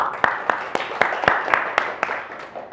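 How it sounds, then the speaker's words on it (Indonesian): A few people in a small podcast studio clap for a university student president, sharp distinct claps in a steady, evenly spaced rhythm, fairly close and moderate in level. "Sebelumnya beri tepuk tangan kepada Bapak Presiden."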